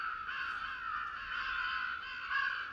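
Crows caw during a crow hunt; harsh, drawn-out calling goes on steadily at moderate loudness with no talking.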